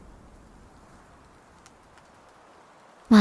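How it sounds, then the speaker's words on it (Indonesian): Light rain drizzles on an empty street at night, a soft steady hiss of patter that stays faint and even before an abrupt loud sound cuts in at the very end. "hujan turun rintik-rintik."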